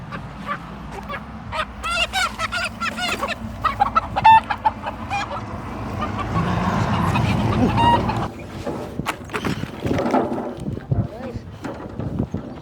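Chickens cluck and squawk close by in a busy, overlapping flock while people talk over them throughout.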